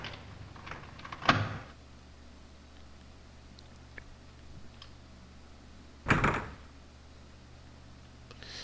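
A locked door being opened in the Alone in the Dark 2 video game, two distinct mechanical clunks a few seconds apart over a low steady hum, with quiet pauses between.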